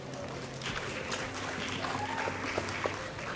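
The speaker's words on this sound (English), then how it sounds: "Can we please have a huge round of applause?" Delegates clap together in a broad, steady round of applause at a school Model UN conference hall, a dense continuous patter that holds at an even level throughout.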